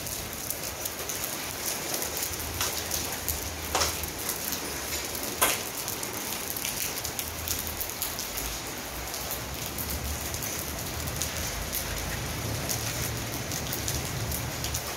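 A sudden hailstorm with heavy rain gives a dense, steady hiss of falling water and pattering on surfaces, with a few sharper ice impacts standing out, loud and continuous for about fifteen seconds with no one talking.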